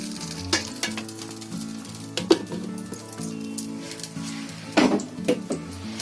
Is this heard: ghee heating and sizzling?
yes